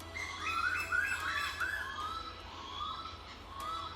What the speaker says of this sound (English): It's actually a bird from Papua New Guinea that migrates down to Sydney.